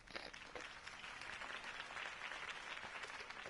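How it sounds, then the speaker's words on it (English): A campaign rally audience applauds after a mayoral candidate's speech, a dense, continuous crowd clapping heard at a moderate distance and holding steady throughout. "could have heard that applause"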